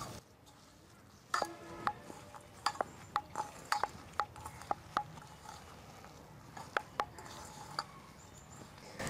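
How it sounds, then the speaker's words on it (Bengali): Jackfruit mash being kneaded by hand with mustard oil, rock salt, sugar, lemon leaves and fried spices outdoors in a village: a run of sharp, irregular wet slaps and squelches against a quiet background, with no voices. "সবগুলো এখন একসাথে মেখে নিব।"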